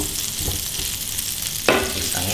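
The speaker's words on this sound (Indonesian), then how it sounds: "Pisangnya kita panggang" Bananas fry in margarine with a low, steady sizzle close by, and one sharper clatter of a utensil against the pan partway through.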